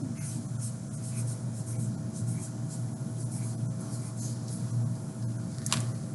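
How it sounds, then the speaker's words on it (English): Words are written on a board during a classroom writing lesson, giving soft continuous scratching strokes close by over a low steady room hum. "So I'm going to write brainstorming and"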